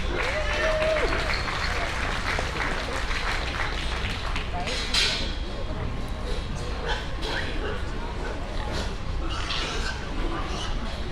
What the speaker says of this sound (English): Let's give all these exhibitors one more big round of applause